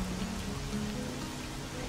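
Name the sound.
rain in video game S.T.A.L.K.E.R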